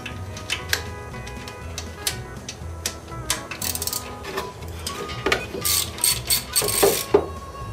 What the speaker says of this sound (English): Looks like I'm gonna have to use a wrench on this.